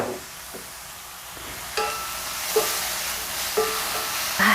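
Mushrooms and onions sauté in a Lodge cast iron skillet with thyme, salt and pepper, giving a steady close sizzle broken by several scraping stirs of a utensil across the pan.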